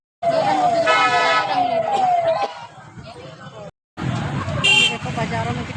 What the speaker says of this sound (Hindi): देखो बाजारों में कितनी भीड़ है।